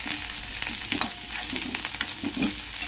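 Indian borage leaves sauté lightly in a pan with a soft continuous sizzle and gentle stirring scrapes throughout, close and moderate in level.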